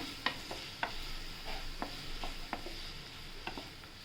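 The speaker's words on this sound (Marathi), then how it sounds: "आता आपण तेल तापत ठेवलं आहे कांदा टाकूया" Two large chopped onions frying in heated oil give a faint, low sizzle, punctuated by a few sharp spatula taps and scrapes against the pan as they are stirred.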